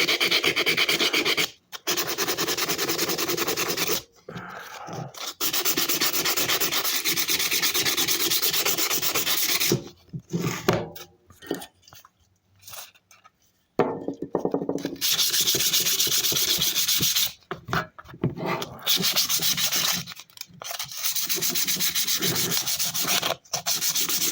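Sandpaper rubs back and forth across an old Bonney S wrench, a steady close-up rasping scrape in long strokes that stop now and then for short pauses.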